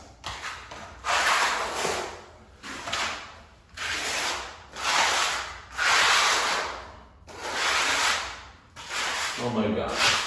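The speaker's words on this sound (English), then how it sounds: "the trowel is to hold it at a 45-degree angle and scrape off everything" A trowel held at an angle scrapes excess tile adhesive off a floor, seven long rasping strokes in a steady rhythm, close and loud with short pauses between.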